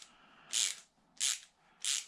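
A wrench ratchets as it tightens a fuel line fitting onto a hose during a Jeep TJ LS swap. Three separate bursts of clicking come at a regular rhythm, close and fairly quiet.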